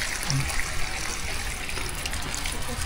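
Water trickles and splashes steadily for a few seconds, a continuous close-up pouring hiss with no pause.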